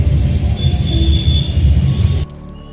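Steady rumble of a train in motion heard from inside a carriage, a low continuous roar with a faint tonal whine, loud and close throughout before cutting off abruptly near the end; no talking.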